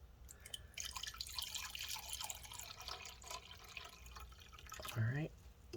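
Water is poured into a measuring cup in a kitchen, a steady broadband splash and trickle with a rising filling tone near the end, close by and fairly loud throughout.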